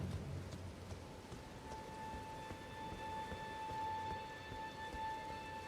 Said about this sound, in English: It's raining. This game has everything.